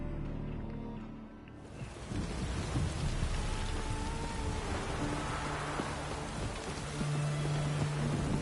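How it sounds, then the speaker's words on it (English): Steady heavy rain with rumbling thunder fills a stormy scene in The Witcher 3 video game, a continuous loud downpour throughout with low rolling rumbles underneath. "Raining in my game."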